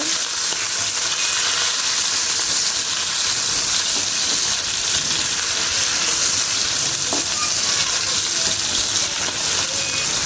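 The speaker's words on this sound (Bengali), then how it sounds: "চিংড়ি মাছটা হালকা একটু ভেজে নেব" Prawns lightly frying in a pan for a fish curry, giving a steady, loud sizzle with occasional stirring scrapes and spatters, close up and continuous with no talking.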